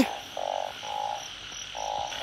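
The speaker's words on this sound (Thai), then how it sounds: "ผลงานผมได้กบสองตัวครับ" Frogs croaking in a rainy night field during a hunt for frogs and toads, a steady chorus with three loud bursts of calls standing out over continuous background trilling, no talking.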